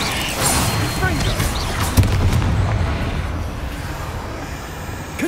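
Confringo blasting spell explosions in Hogwarts Legacy, loud booming bursts with a sharp hit near the middle over dense continuous game noise and background voices.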